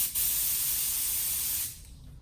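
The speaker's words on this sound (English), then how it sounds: "You wanna mist this on, you don't wanna go too heavy." An LPH 80 spray gun with a 1.2 mm tip mists a light intercoat clear over paint, giving a loud, steady hiss that runs for about a second and a half before cutting off.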